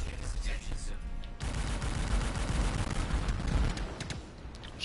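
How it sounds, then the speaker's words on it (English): Automated turret firing in the video game Anthem, a dense rattling stream of rapid gunfire that runs for several seconds after a short opening lull, loud and close, with speech-like sound mixed in underneath. "Shut up, turret."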